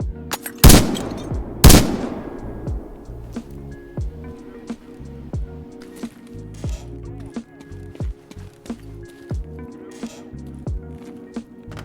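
Two loud, sharp sniper rifle shots ring out early, each with a ringing decay, in the Roblox survival game State of Anarchy. They are followed by steady rhythmic footstep-like game sounds and a low background hum.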